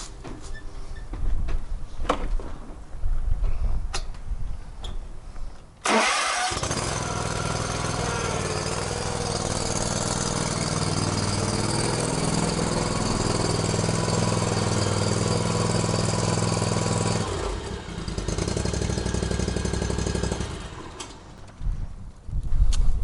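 A Kawasaki engine on a Hustler Raptor RSD60 zero-turn mower cranks and catches after a spring start-up, then runs loud and steady at idle for about ten seconds before shutting off, with no voices over it.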